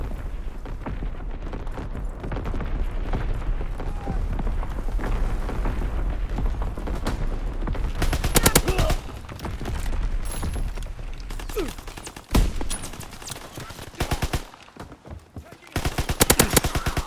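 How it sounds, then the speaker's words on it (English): Enemy artillery hits in a WW2 video game: heavy blasts and booming impacts mixed with rapid machine-gun bursts, loud and close, with sharp cracks late in the stretch. "Incoming enemy artillery!"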